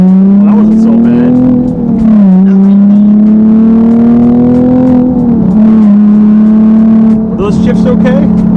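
A Nissan 370Z engine drones steadily while driving, its pitch rising and dipping at each gear shift, close and loud with voices talking over it.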